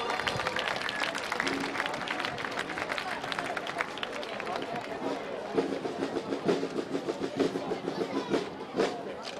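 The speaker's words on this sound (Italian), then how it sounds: "Facciamo un applauso." Crowd applause at the Palio dei Normanni festival parade in August, a continuous spread of clapping under an announcer's voice, with a steadier rhythm of claps emerging in the latter half.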